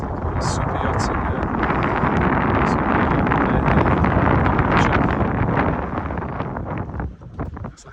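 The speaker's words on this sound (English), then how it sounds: "It's protected from this north wind that's blowing." A north wind blows across a sailboat at anchor in a sheltered bay, producing a loud, steady rushing buffet close to the microphone for about seven seconds before it eases and sputters out.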